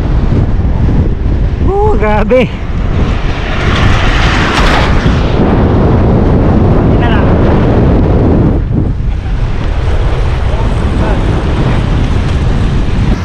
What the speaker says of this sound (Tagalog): Ito na yung pahirap sa mga siklista, ang napakalakas na headwind.